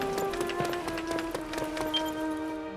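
Heavy plodding footsteps from the Dragon Quest Heroes 2 video game thud in a steady rhythm over a layer of background music, at moderate volume.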